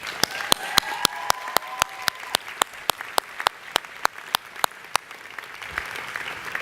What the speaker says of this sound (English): So give a round of applause for the staff.